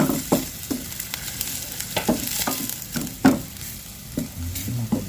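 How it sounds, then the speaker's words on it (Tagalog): Garlic, onion and ginger sautéing in a little oil in a saucepan, a steady close sizzle broken by repeated stirring scrapes and clinks every second or so, with no talk. "Gisa lang po natin yung ating bawang, sibuyas, luya."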